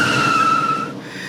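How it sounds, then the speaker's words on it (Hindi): An expensive car brakes hard outside with a sharp squeal that lasts under a second, then cuts off into quieter background. "तभी बाहर अचानक महंगी गाड़ी के ब्रेक की आवाज गूंजी।"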